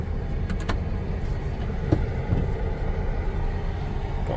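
A camper van's engine runs steadily just after transmission fluid was added, a low continuous rumble with a few faint mechanical clicks and knocks over it.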